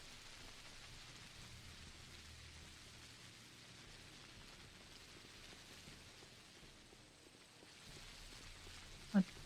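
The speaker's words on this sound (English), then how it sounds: "I shall lower my overall PC volume because this rain." Steady rain ambience in a video game, a soft continuous hiss of falling rain at low volume, with a single brief click near the end.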